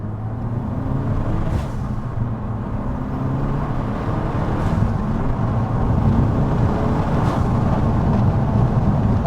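Peugeot 308 GTi on the road, with a steady engine drone and heavy wind roar filling the cabin throughout and no talk.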